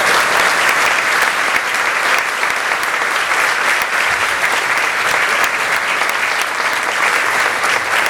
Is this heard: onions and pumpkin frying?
no